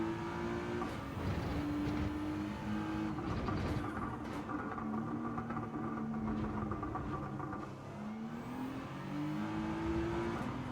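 A race car engine revs hard around Tsukuba circuit in a video game, loud and continuous, its pitch climbing and falling through gear changes across the whole stretch, with no voices.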